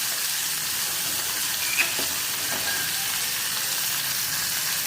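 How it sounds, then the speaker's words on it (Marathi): Bangda mackerel fry in a cast iron pan with a steady, even sizzle and hiss, close and uninterrupted, with one faint tap partway through. "छान आपले बांगडे असे फ्राय होत आहेत बघा"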